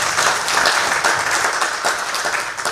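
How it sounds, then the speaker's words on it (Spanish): Audience applause at a Spanish-language panel talk, a dense steady wash of many hands clapping at close range, holding evenly throughout with no voices breaking through. "Un aplauso."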